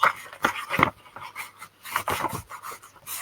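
Lacey the dog pants in quick, uneven breathy bursts close by, with a few pauses between runs and faint household rustling in a craft room.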